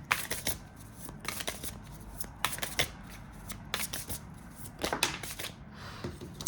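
New tarot decks being shuffled by hand up close, with steady riffling card flutters and brisk slaps repeating throughout, loud and continuous with no speech.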